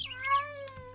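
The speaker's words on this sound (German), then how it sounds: "Miau, Katze." A cat meows in the Minecraft modpack Life in the Woods, one drawn-out, wavering call rising and falling, fairly close and clear, with no talk over it.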